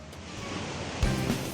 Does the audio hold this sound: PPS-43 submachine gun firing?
no